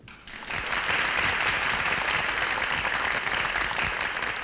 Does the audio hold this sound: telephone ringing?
no